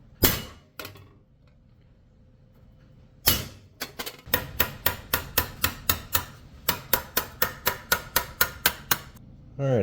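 Hammer and chisel strike armor plate edges laid along a grooved wooden anvil, a steady run of sharp metallic taps, roughly a dozen evenly spaced blows after a few scattered opening hits, close and loud.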